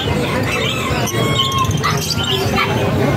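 Caged birds at a pet market chirp and squawk in a busy, continuous chorus with loud, dense background noise.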